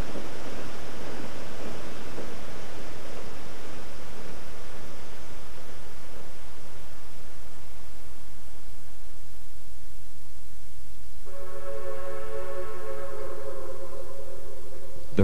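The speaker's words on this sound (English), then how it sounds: "The empty train highballs back to Eatonville for another load." An empty logging railroad train runs back toward Eatonville, a steady broad rumble and rush filling the scene throughout, with a tonal whistle sounding over the noise near the end.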